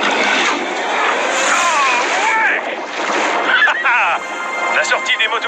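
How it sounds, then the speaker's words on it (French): Jet skis head out of a harbour basin into open sea waves in a cartoon scene, with churning splashes and rushing surf filling the clip while voices talk over it. "La sortie des motos marines est un peu plus brusque que celle du bassin"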